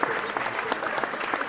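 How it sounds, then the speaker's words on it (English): Steady round of clapping welcoming comic artist Jason Fabok onto a comics show, a dense patter of many hands at moderate distance, continuous and alone without speech. "Oh, you get applause."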